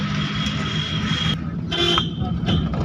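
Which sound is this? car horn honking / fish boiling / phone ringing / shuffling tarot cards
car horn honking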